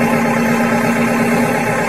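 A Preet tractor engine idles steadily at close range, a loud, even mechanical drone with a constant hum running through it and no talk.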